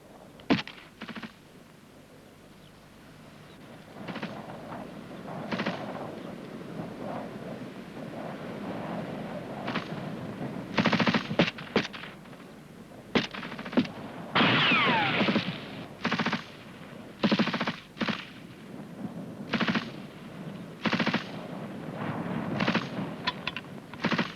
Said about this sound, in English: before they move, the rest of the rifle group are giving them covering fire